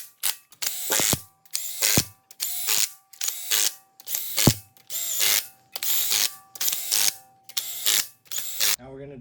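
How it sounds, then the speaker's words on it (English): A ratchet running down cylinder head bolts on an LSA V8 engine during a rebuild, loud and close: about nine separate bursts of rapid clicking, each roughly half a second long, with short pauses between them. "Cylinder head tighten down, inside out. Right now I'm just running the bolts down"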